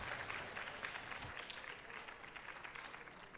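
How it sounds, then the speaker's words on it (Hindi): A crowd applauds steadily, a dense patter of many hands clapping at once, moderately loud and continuous throughout. "जोरदार तालियां हो जाए।"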